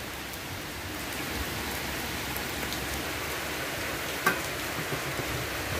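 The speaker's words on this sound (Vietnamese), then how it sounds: "Trời bắt đầu bớt mưa nè" Steady rain falls outdoors, a dense, even hiss of drops on surfaces holding at a constant level throughout, with one brief sharper tap near the end and no voices.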